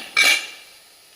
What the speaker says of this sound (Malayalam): പച്ച കപ്പലണ്ടി വറക്കാം നന്നായിട്ട് കഴുകിയ കപ്പലണ്ടിയാണ്